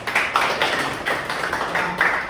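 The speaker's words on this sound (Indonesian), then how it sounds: "Oke, beri aplaus untuk kelompok" A school class claps for a group of classmates, producing a quick, fairly regular run of close hand claps for a couple of seconds.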